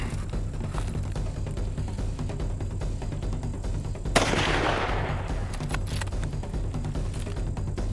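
A single rifle shot fired at a 1,600-pound buffalo from about 15 yards on a Niassa hunt, a sharp loud crack with a short outdoor decay, cutting through steady background noise.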